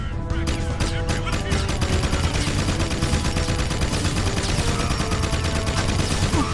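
Soldiers in Jak 2 unleash dense, continuous automatic gunfire, rapid overlapping shots cracking loudly and without pause throughout.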